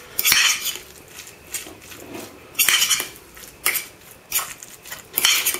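A spoon or fork clinks and scrapes against a small bowl in several separate bursts while crumbled tuna is mixed with mayonnaise, close and fairly loud, with quiet pauses between the strokes.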